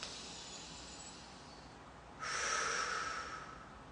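A slow, deep breath drawn in through the nose, close and soft at first, then swelling into a louder airy inhale before easing off, with no speech.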